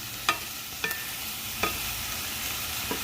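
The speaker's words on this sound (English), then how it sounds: "So we're getting a really good sizzle going here, folks." Corned beef and onions sizzle in a pan under a steady frying hiss, with a few faint scrapes of stirring at intervals.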